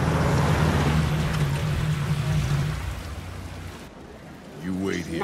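Steady rain hisses in the video game Detroit: Become Human, with a low car engine hum underneath that fades out. A voice briefly speaks at the end.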